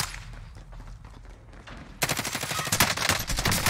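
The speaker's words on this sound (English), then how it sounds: "That gun that he has is too fast." Rapid automatic gunfire from a fast-firing gun in a Call of Duty match, a dense burst of quick shots that swells loud partway through over steady game background noise.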